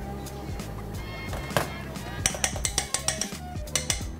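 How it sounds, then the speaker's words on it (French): A utensil stirs blended Tarbais beans with sesame paste, giving a run of clinks and scrapes against a bowl that turn into a quicker, rhythmic tapping toward the end, with a low hum underneath. "On va remuer le tout pour bien incorporer la pâte à sésame en fait dans le haricot."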